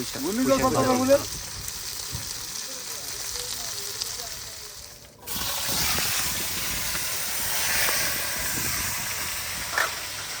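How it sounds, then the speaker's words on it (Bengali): Hilsa fish frying in a pan aboard a Padma river fishing boat, a steady soft sizzle and hiss running throughout, with a brief voice-like sound at the start and a break midway before the frying resumes. "ইলিশ মাছ দিয়ে ভাজি"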